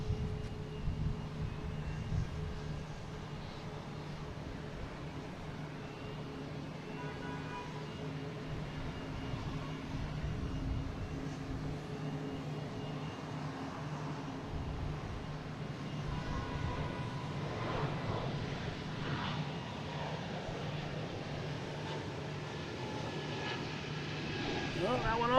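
A JetBlue Airbus A220 jet on flight 1355 bound for Reagan, heard at Boston Logan as a steady, moderately distant engine roar with a low hum, continuous for the whole stretch.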